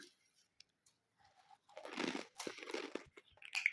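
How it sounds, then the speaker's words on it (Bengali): Puffed rice (muri) mixed with chanachur and a little mustard oil is eaten in a quiet village room, a few close, crisp crunching bites after a near-silent start. "মুড়ি আর চানাচুর সরিষার তেল একটু মাখিয়ে নিয়েছি মাঝে মাঝে যে একটু মুড়ি খাচ্ছি"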